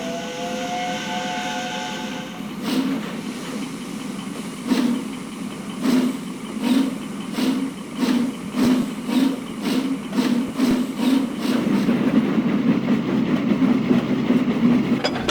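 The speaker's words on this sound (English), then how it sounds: "They were thrilled, too, when Flying Scotsman backed down on their train." A steam locomotive works along the rails, its rhythmic chuffing beats repeating steadily and quickening, preceded by a whistle-like tonal sound at the start, fairly close with no voices.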